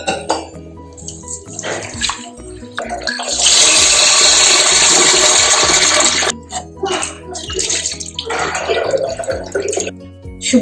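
Rice with fenugreek seeds is washed in a vessel: a loud, steady stream of water pours in for a few seconds, with sloshing, swishing and clinks of the pot before and after.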